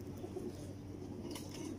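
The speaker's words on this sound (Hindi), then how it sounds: "बड़े शानदार और ख़ूबसूरत कबूतर" Teddy pigeons, a pair kept by a breeder, coo in soft low repeated calls, close by and steady, with a faint background hum and no talk.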